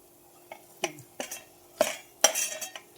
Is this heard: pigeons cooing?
no